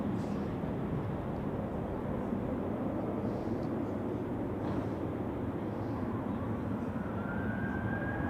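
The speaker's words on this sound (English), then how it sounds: "Delta is taking off on runway 34." A Delta airliner takes off from runway 34 at Zurich Airport during a storm, a distant, steady jet roar with rising engine pitch toward the end, mixed with wind noise.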